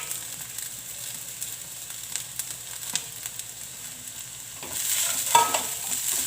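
Cabbage and other vegetables fry in a pan for a vegetable suji roll, a soft, low sizzle with scattered crackles that swells into a louder burst of frying near the end.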